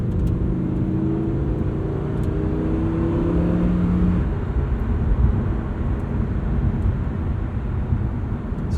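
A 2023 Lamborghini Huracan Tecnica cruising casually in Strada mode in regular automatic drive, with a steady low engine and road drone heard from inside the cabin and a soft engine tone easing down midway.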